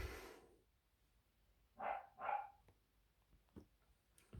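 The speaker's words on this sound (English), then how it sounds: "I was just trying to get my dog to be quiet" A dog barks twice in quick succession, fairly close and clear, in an otherwise quiet indoor room.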